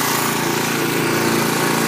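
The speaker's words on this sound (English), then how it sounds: "It's not, the lawnmower blade's not broken, it just went through a load of stones." A smoking petrol lawn mower that has just run through a load of stones and been tipped over runs loudly and steadily up close, a continuous buzzing engine drone with no pauses.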